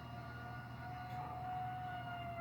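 A steady electromechanical civil defense siren holds a sustained wailing pitch over a low mechanical hum, fairly faint and distant, with no speech.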